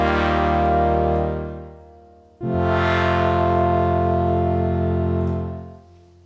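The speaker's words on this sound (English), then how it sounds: "send some of the signal on track 1 to the first aux bus with a short reverb on it" Sustained synth-like tone in a DAW track sent to an aux bus with a very short reverb under one second, two long held notes with a brief tail fading between them, clear and fairly loud with no other sounds.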